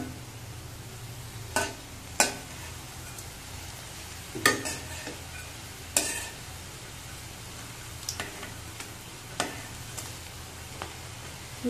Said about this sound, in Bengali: অল্প একটু সময়ের মধ্যে বড়াটা ভাজা হয়ে যায়